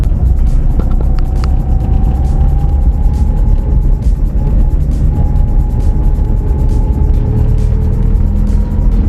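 A Tata Nano small hatchback cruising in third gear, its engine giving a steady, loud, continuous drone with faint road and cabin rumble, no speech.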